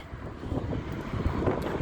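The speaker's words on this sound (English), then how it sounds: "Oh, it's windy." Wind buffets a microphone outdoors, a low, rough rumbling roar that swells and gusts unevenly over a couple of seconds, close and fairly loud.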